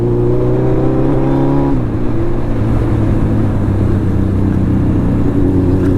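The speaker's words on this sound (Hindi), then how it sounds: "सुपर बाइक से ड्रैग रेस लगाएगा" Suzuki Hayabusa superbike pulling hard in a street drag race, a loud close engine drone with stepped harmonic tones that shift down partway through as the gear changes, steady and continuous without talk.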